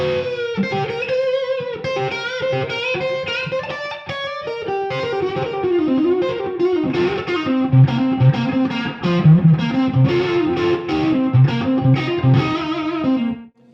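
A Fender Custom Shop Dale Wilson Masterbuilt '60 Strat Heavy Relic HSS goes through an overdriven amp with chorus-like effects, playing loud, busy distorted licks and chords that run steadily for about fourteen seconds with no talking.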